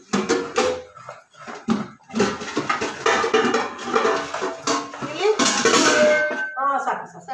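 Metal cooking pots and vessels clink and clatter as they are handled in a home kitchen during festival preparations, with irregular bursts of clanking heard close by while people talk.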